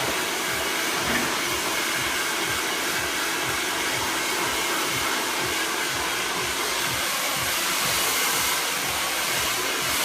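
A hair dryer blasts a steady, loud whoosh throughout during a big, bouncy salon blow dry, its airflow pulsing gently as the hair is brushed, with no one speaking.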